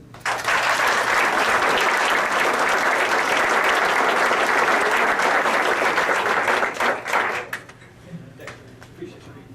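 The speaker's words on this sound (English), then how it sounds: "She deserves your applause, too." At a press event involving a sheriff and a police officers association, a room of listeners gives loud, sustained applause for around seven seconds before it thins into a few scattered claps and quiet.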